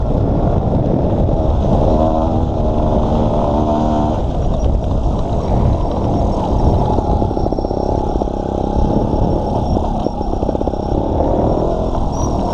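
A GasGas 250 two-stroke trial motorcycle being ridden at low revs on its torque, a loud continuous engine drone with uneven throttle changes, heard close and without talk.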